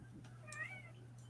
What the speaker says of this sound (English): She's a fancy kitty.